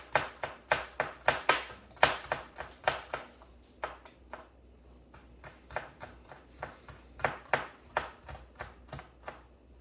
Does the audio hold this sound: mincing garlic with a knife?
yes